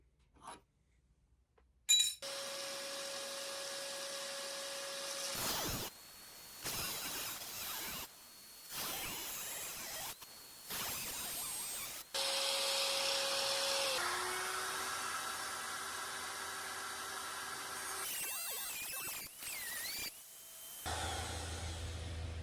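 Rusty weld being cut out on a Chevy Sonic with a power cutting tool: a loud, high-pitched whine that starts and stops several times in bursts of a few seconds, with short quiet gaps and no talking.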